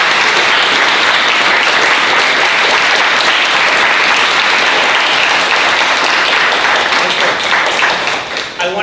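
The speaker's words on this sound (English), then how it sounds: "round of applause" Loud, enthusiastic applause from the crowd at a collective press conference on supporting the unhoused, thick continuous clapping that holds steady before thinning out near the end.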